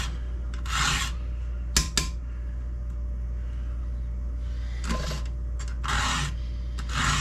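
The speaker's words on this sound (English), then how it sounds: "They seem to file through more chains before I'm done with them." A hand file rasps across a chainsaw chain in short separated bursts, several quick strokes spaced apart over a low steady hum.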